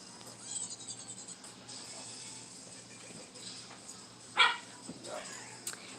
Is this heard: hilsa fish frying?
no